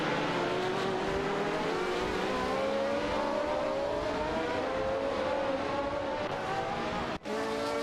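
Race cars, among them a Hill GH1 and a Ferrari 312T, roar through a racing video game: sustained high-pitched engines whine and climb steadily in pitch as they accelerate, loud and continuous, with a brief dip near the end.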